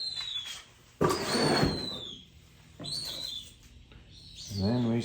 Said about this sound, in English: the hawks are making a lot of noise